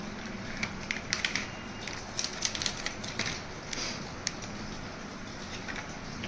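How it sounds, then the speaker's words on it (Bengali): A spoon stirs milk powder into warm water in a cup, making rapid, uneven clinks and ticks against the container over a dense, steady hiss, close and fairly loud, with no speech. "এবার আমি মিশিয়ে নেব দুধটাকে"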